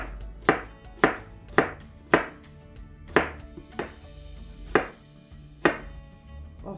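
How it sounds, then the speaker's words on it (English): A sharp knife chops through cabbage on a cutting board in about ten firm, evenly spaced strokes, each a crisp thud-crunch that stands out clearly with no talking. "I'm just going to go ahead and I'm going to chop this up"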